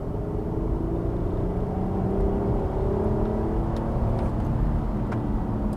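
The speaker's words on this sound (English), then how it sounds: "the rev hang just helps the vehicle shift smoother between these gears" A 2010s fourth-generation Acura TL SH-AWD with a manual gearbox, driven steadily with a continuous low engine drone and road rumble from inside the cabin, and faint clicks near the end.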